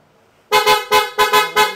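Car horn honking in several sharp, loud blasts close by, a short beep followed by four more rapid honks in an uneven rhythm during a lights and horn test.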